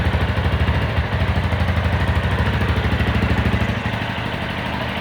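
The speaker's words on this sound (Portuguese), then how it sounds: "Vou mostrar pra vocês que o problema do barulho do motor era realmente o tensor" A Yamaha Ténéré 250 motorcycle engine, its noisy timing tensioner just replaced, idles steadily at close range with an even, pulsing beat and no ticking, running alone without talk.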